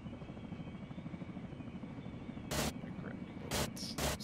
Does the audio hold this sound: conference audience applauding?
no